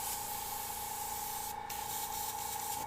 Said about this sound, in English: We can even do a little spray, and then I'll candy over this.